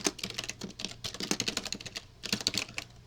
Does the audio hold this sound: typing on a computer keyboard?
yes